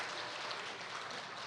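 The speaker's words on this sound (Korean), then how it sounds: "박수" A church congregation at a Friday evening prayer meeting claps together, a dense, steady wash of applause heard at moderate distance for the full duration.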